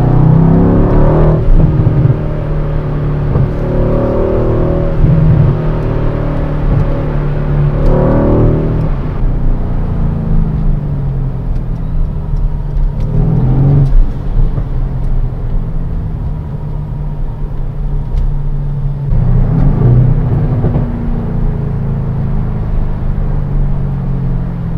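Mercedes-AMG C63 S Estate from 2020, its V8 heard from inside the cabin as a steady deep rumble with several rising acceleration surges and gear changes, loud and continuous throughout.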